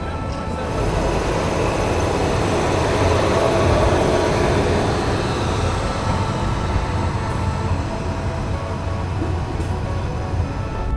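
An Indian Railways locomotive rolls along the track to couple with the Hisar Duronto Express, giving a steady, loud rumble and hum of engine and wheels throughout, with no voices.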